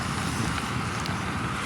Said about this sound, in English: Well, the wind has calmed down a lot